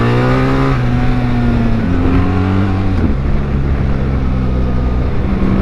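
A BMW R 1300 GS Adventure motorcycle engine blips loudly and close on a series of downshifts along a twisty road, its pitch stepping up and falling away in sharp bursts over a steady drone.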